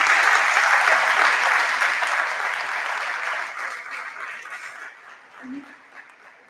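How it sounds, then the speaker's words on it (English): A conference audience at an airports innovation event applauds the panelists, loud sustained clapping that gradually thins and fades, with a brief voice near the end. "So please give our excellent panelists a round of applause"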